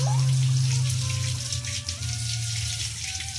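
Water splashing and running while a cow's belly is washed on a farm, a continuous close wet spatter with a low steady hum underneath.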